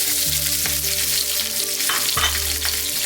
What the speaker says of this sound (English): Then we're going to add our onions and our garlic ginger paste, and we're going to cook that just for about 3 minutes.